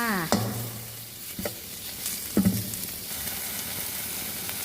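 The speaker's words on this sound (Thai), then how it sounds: "ก็มาใส่กะทิกันเลยค่ะ" Coconut milk is poured into a hot sizzling pan while cooking Thai panang curry, giving a steady frying hiss with a few clanks of a utensil stirring against the pan, close up.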